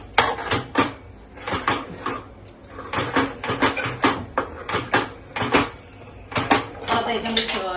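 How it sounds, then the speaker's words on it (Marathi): A metal spoon scrapes and clanks steadily against a pot while ground chickpeas are stirred for chole in a home kitchen, producing a dense, uneven run of close clinks and knocks. "हे आपण जे छोले वाटून घेतले त्याच्यात मिक्स करूया आता"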